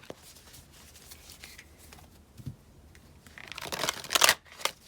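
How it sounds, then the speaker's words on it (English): Tarot cards being shuffled by hand, a soft papery riffle that builds from light rustling to a denser, louder burst of card flicks near the end, close and alone. "I'm going to shuffle this deck a couple of times."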